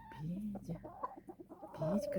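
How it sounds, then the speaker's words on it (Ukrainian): Close-up chickens cluck and murmur in short, uneven bursts, with a few louder squawks toward the end. "Такі кури цікаві."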